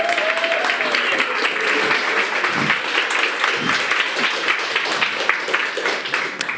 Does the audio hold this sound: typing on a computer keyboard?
no